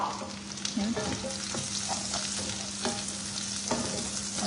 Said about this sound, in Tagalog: Lagyan natin yung mushroom.